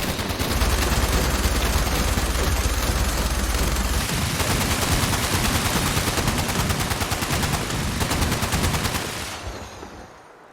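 Video game gunfire, a sustained loud barrage of rapid automatic shots layered over a low rumble for about nine seconds before cutting off abruptly.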